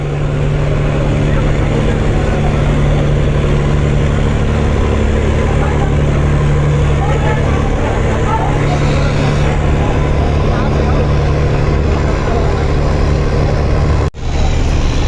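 Passenger launches at the Barisal launch ghat throw their engines into reverse, making a loud, steady, close engine drone with churning water that runs unbroken, dipping briefly near the end.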